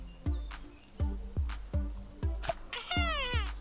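A cartoon cat meows in a kids' farm video game, with short synthetic meows layered over regular thudding clip-clop hoofbeats and bright rising game effects, with no one speaking.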